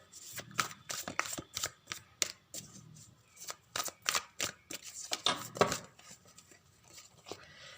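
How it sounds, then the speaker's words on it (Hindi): Tarot cards shuffled by hand in a series of crisp, riffling bursts with short pauses between, close and fairly quiet, with no talking. "कई सारे कार्ड्स आ रहे हैं, मेरे को एक ही कार्ड चाहिए, इसलिए मैं और शफल करूंगी।"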